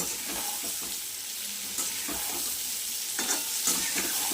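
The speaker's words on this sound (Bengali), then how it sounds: "নাড়তে থাকবো, আবার একটু ভেজে নেব।" Chopped onion fries in a pan, a continuous sizzle broken by several stirring scrapes and spoon knocks, close and moderately loud, with no talk.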